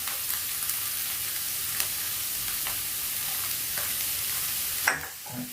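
Egg and spinach stir-fry, palak muttai poriyal, sizzles steadily in a pan with occasional stirring scrapes, ending in a short clatter near the close.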